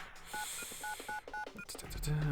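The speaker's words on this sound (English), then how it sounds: "Taking my cell phone, I dialed the principal's private number from my memory." Cell phone number dialed in The Fruit of Grisaia video game, a quick run of about eight beeping keypad tones, close and fairly faint, followed by a lower ringing tone.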